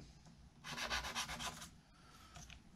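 Sandpaper works the wood face of a sectional build joined with Titebond glue: about a second of close, rhythmic back-and-forth rasping strokes, then a quieter scrape.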